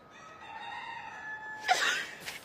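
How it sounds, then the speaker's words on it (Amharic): A rooster crows once in Ethiopia, a clear, fairly close, drawn-out call that ends in a brief noisy flourish against a quiet background, with no talk. "አንተ ዶሮ ነው ማለት ነው"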